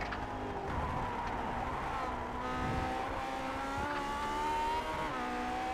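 Lotus 49 race car engine in the Grand Prix Legends racing game at Daytona International Speedway, a loud continuous rising and falling engine whine with gear-shift dips, close and constant.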